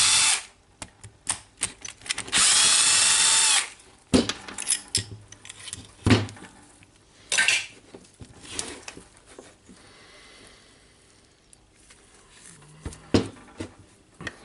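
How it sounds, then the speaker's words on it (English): Screws are worked loose on a Milwaukee PLH 32 XE hammer drill during a teardown: close metallic clicks and scrapes, a sustained buzzing whir early on, then scattered taps and clinks of tool against housing, with no talk. "Now I will try to unscrew the two screws here."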